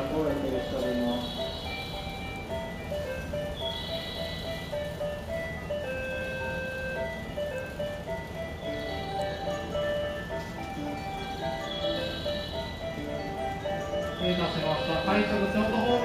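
A chime-like approach melody playing "Mary Had a Little Lamb" rings out at Nishi-Akashi station as a freight train passes, repeating in phrases over steady platform and train rumble, with station announcements and voices mixed in.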